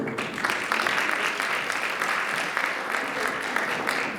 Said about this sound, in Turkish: Bu arada gösterdikleri özver için de ben kendilerini alkışlıyorum.